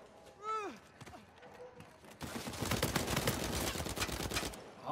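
Gunfire in the video game Uncharted 4 multiplayer: after a brief voice near the start, a sustained rapid burst of automatic shots rattles for nearly three seconds, fairly loud and dense.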